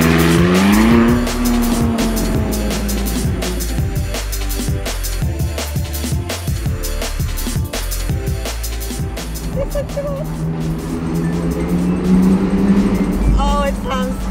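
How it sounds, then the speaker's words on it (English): A McLaren 675LT driven hard through the Monaco F1 street circuit: the engine revs climb and drop through gear changes, with brief tire squeals and people talking over the loud, continuous cabin roar. "it's got a nice engine sound"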